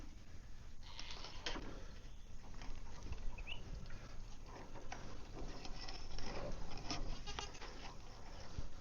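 Nigerian dwarf goats bleat repeatedly on a ranch, their calls close and mixed with rustling and scattered movement noise, with no talking over them.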